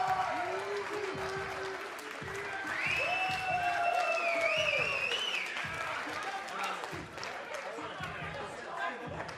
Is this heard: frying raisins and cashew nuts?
no